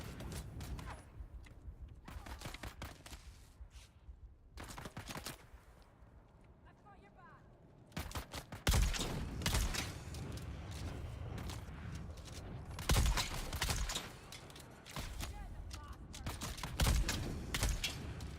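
Gunfire in Dune Awakening, with repeated sharp shots in bursts over continuous game noise while players talk throughout.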